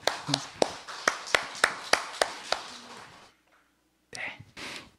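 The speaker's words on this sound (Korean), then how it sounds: "우리 함께 기도하는 의미로 박수 한번 드리겠습니다" A short burst of rhythmic group clapping from a small church congregation at a Sunday service, about a dozen evenly spaced claps, then a pause and a few faint murmurs.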